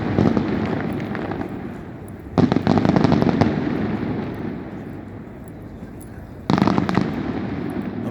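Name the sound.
Mardi Gras fireworks exploding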